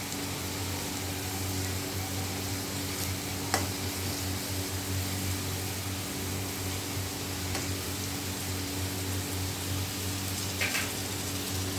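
Small cut potato pieces fry in a pan with a soft, steady sizzle throughout, faint and even, with no talk.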